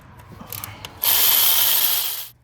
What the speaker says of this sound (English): I'm gonna unbolt this ground here.